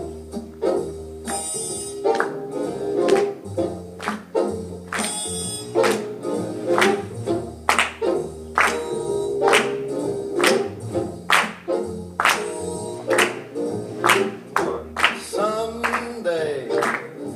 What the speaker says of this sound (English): try to once again clap along 1, 2, 3, and 4